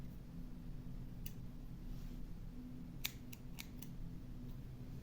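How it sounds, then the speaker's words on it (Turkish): Scissors snipping leftover yarn ends from a finished crochet motif: a few sharp, quick clicks, one early and a small cluster later, close but quiet over a low steady room hum. "Esnettikten sonra dışarıda kalan ipleri kesiyorum."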